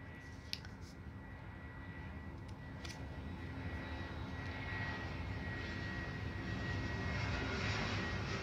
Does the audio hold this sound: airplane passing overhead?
yes